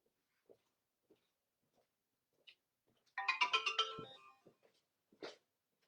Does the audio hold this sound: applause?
no